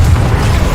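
A Confringo spell fires in the Hogwarts Legacy video game, a short dense low boom that rumbles loud and steady for under a second.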